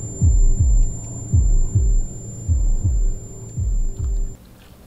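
A loud, deep heartbeat thumps in a steady double-beat rhythm, repeating about seven times over a faint high hum, from the TV series Wolf Pack.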